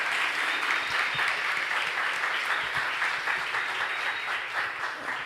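A church congregation claps steadily in sustained, dense applause that holds at an even level throughout, with no voices standing out over it.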